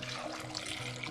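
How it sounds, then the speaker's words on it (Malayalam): Water pours steadily into a pot of Kerala curry with paprika and salt, a soft continuous trickling splash heard quietly up close. "ഇനി ആവശ്യത്തിന് വെള്ളം ഒഴിച്ച് അടുപ്പിട്ട് വെക്കാം."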